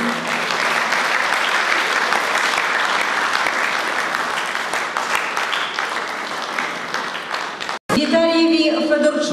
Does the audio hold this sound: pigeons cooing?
no